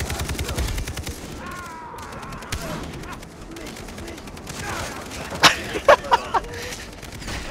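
Far Cry 3 gunfire at a train depot: rapid automatic bursts early on, then a few sharp, loud single shots cracking near the end amid game noise.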